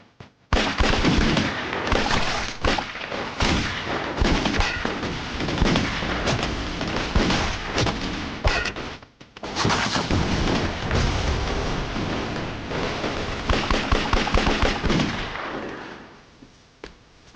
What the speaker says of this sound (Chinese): 前面开枪